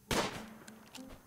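Gunshots ring out in the colony game RimWorld: one sharp, loud crack that decays, then a few fainter pops after it, with no voices.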